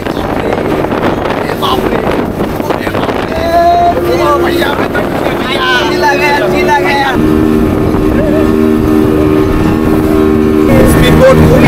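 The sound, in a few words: speedboat bouncing across rough water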